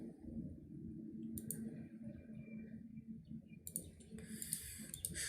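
A computer mouse gives a few quiet, sharp clicks in short clustered bursts over a low background hum.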